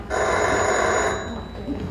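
A sustained electric bell rings loudly onstage during a stage play of "The Man Who Came to Dinner," a continuous trill lasting over a second before cutting off into a quieter room tone.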